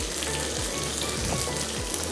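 Capsicum frying in a pan with onion for vegetable masala Maggi, giving a steady, close hiss of sizzling oil with no one talking.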